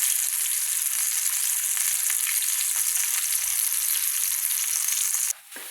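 Garlic and onion sizzle steadily in a hot pan with a constant, bright hiss that stays even throughout, cutting off abruptly at the end.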